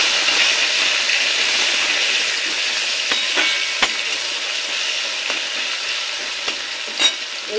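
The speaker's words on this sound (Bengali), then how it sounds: "আদা টমেটো একসাথে তেলের উপরে দিয়ে দিই।" Crushed ginger and a small tomato fry in hot oil with a bright, steady sizzle, joined by occasional soft clicks and taps of a spoon stirring the pan, close up with no speech.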